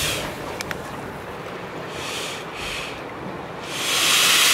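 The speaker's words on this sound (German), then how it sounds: "Hier sind so Löcher drin und die Luft, die Wellen vor sich her treiben, die kommt hier raus." Air hisses out of holes in a seaside structure, pushed by incoming ocean waves, a broad rushing hiss that swells in gusts and grows loudest at the end, with wind noise and no talking.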